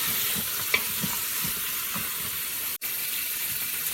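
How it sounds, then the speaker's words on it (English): Spare ribs stirred with black beans in a sizzling pan, a steady hiss of frying with soft scraping stirs throughout and a brief dropout near the end. "Mix the spare ribs thoroughly with the black beans."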